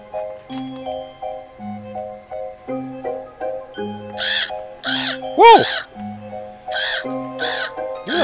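A crow caws in repeated harsh bursts, close and loud, over a steady ticking pattern, with one brief startled exclamation from a person.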